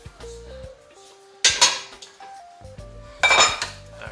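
A metal pan is picked up and set on a stovetop in preparation for cooking chips, making two loud, close clattering clanks over quiet background music.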